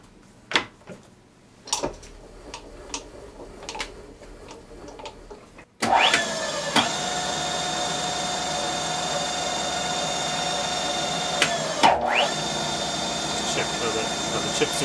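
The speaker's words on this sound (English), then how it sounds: "we'll power tap using the mill itself, just on a low speed" A CNC mill power-taps holes at low spindle speed with a taper tap, starting as scattered clicks and knocks before a loud steady whine of the cutting run, with a brief pause and restart near the end.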